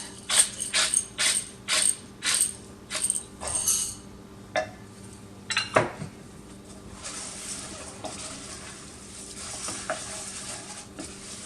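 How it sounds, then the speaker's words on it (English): A spoon scrapes and stirs oats into a hot pot of chocolate mixture for wartime chocolate bars, first in a run of rhythmic close strokes, then softer scraping and faint sizzling. "turn off the heat and stir in the oats"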